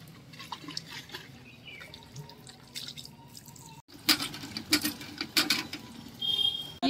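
Two litres of water poured into a plastic hand spray pump for mixing insecticide, heard as an irregular splashing trickle that grows louder and busier in the second half, outdoors in a garden.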